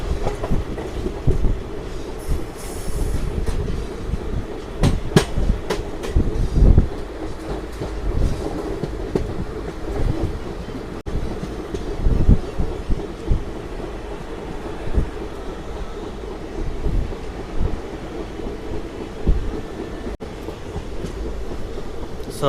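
A passenger train runs steadily after departing Ongole, with continuous rumble, rhythmic clickety-clack of wheels over rail joints and some wind noise at the window, heard from inside the moving coach.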